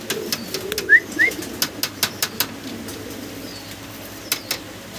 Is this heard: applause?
no